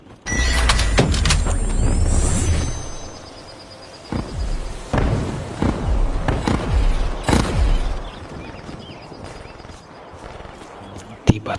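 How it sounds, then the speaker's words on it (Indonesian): Gunfire bursts and whizzing bullets ring out in loud, sharp cracks, with a dense volley at first, then several separate heavy shots spaced over a few seconds and a final sharp bang after a quieter stretch. "bunyi letusan senjata dan peluru yang berterbangan menuju ke arah"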